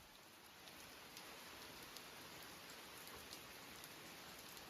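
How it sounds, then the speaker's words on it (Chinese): Heavy rain falls outside a rural home in a storm, a dense, constant hiss of downpour on surfaces with no pauses, steady and fairly close, with no voices. "不对呀，这么大雨啊！"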